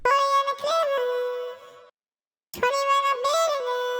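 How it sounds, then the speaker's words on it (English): A sampled human voice, played dry without effects and pitched up, sings two short sustained phrases with a brief silent gap between them. "So here's what it sounds like dry and pitched up."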